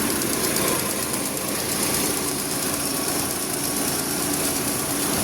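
A car engine idles with the air conditioning switched off, a constant close mechanical rumble and hiss that holds evenly throughout, with no talking.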